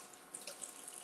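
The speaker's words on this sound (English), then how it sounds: "Do a little rinse." Tap water runs steadily into a kitchen sink for a quick rinse during cooking, a faint, even hiss of flowing water with no voices.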